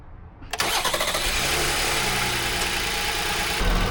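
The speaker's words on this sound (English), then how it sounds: "let's give it a quick start" A 2021 VW Atlas 3.6L engine cranks and fires after a starter replacement, catching quickly and settling into a steady, close idle with a slight rev near the end.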